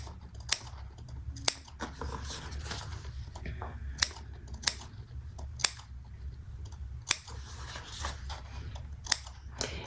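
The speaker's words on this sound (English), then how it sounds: "now I'm just putting the snips in there" Sharp, crisp snips of scissors cutting waterproof canvas around corners, about nine distinct cuts spaced irregularly over a quiet background with faint rustling handling between them.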